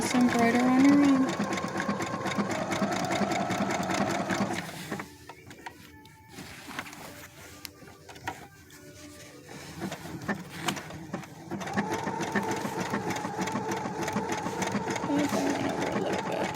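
A Brother sewing machine embroiders a heart design, its motor whirring steadily and loud, briefly dropping off mid-stretch before resuming its rapid stitching hum.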